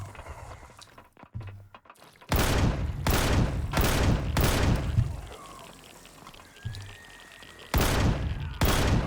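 Heavy gunshots in Empyrion Galactic Survival, a series of loud, booming blasts in uneven bursts separated by short quiet gaps, with no talking.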